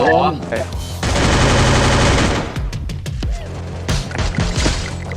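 Rapid gunfire from the battle-royale shooter Free Fire, played with a PS4 controller, crackles in dense bursts for several seconds, followed by scattered single shots and thuds, with faint voices underneath.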